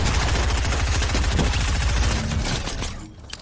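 Rapid gunfire in the video game Fortnite, a dense, loud stream of shots from a shotgun and other weapons that fills most of the moment, then drops away near the end.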